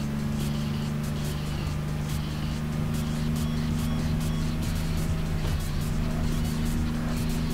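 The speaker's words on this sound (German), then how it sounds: "Boah, ist das Auto richtig laut." A car engine in the video game Tokyo Xtreme Racer Zero roars steadily and loudly throughout, with a constant droning hum and occasional revving bursts, no speech.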